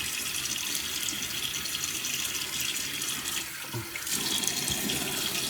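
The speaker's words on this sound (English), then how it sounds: "Let me get my face wet." Steady, close rush of water from a bathroom tap running into a sink as someone wets their face, broadband splashing throughout with a brief dip and surge near the end.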